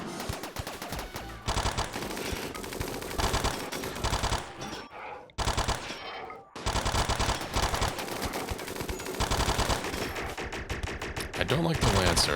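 A video game minigun fires in long, relentless bursts of rapid gunfire, with a brief pause before the stream resumes, loud and close throughout.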